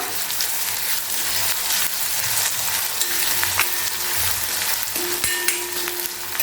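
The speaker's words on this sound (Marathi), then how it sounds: "व्यवस्थित हे सर्व मिक्स करून घेऊया" A mixture with crushed green chili thecha frying in a pan for Khandeshi eggplant bharit, with continuous close sizzling and occasional scraping stir strokes, no talking.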